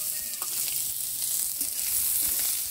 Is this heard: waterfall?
no